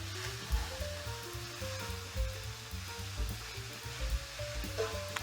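Sausage sizzling in a pan for keto sausage Alfredo, a steady close frying hiss with soft crackles and a low hum underneath, no talking.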